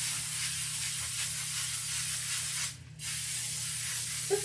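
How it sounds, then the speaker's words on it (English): Non-stick cooking spray misted from an aerosol can over a parchment-lined sheet, a single short hissy burst about a third of a second long against quiet kitchen room tone. "Then you're going to need some non-stick spray"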